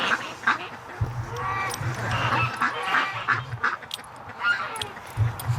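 Ducks quack in short bursts on a winter farm, a few near calls over steady outdoor background, with brief low thumps.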